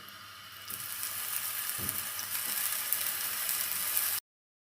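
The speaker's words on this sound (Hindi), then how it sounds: "ये जो मैंने स्लाइस किए हैं इसके बैंगन के, वो फ्राई कर लेंगे" Eggplant slices fry in a pan of oil, giving a steady close sizzle with faint clinks and stirring touches, continuous and fairly loud before cutting off abruptly; no one speaks.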